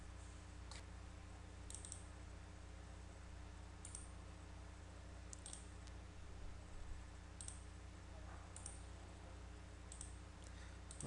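Soft, sparse computer mouse clicks at a steady distance over a constant low hum, about seven isolated taps spread irregularly through the stretch, no voice present.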